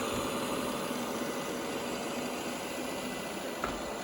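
Steady broadband blowing whoosh from the side exhaust of a Shark IQ robot vacuum's self-empty base dock, a constant near rush of air with a faint motor hum underneath and one brief click near the end.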